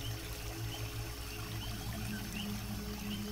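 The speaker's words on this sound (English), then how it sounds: "the small white crests and bubbles formed from the crashing waterfall overhead" Steady, dense rushing of a waterfall crashing into a rainforest pool, a constant broadband roar of falling water with a low rumble, continuous and fairly close, with no voices.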